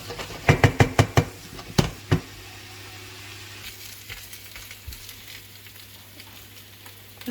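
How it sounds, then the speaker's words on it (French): Onions frying in a pan while being stirred with a lamb leg bone, a row of sharp knocks and scrapes at first, then a low steady sizzle running alone. "on n'hésite pas à remuer nos oignons. Avec l'os."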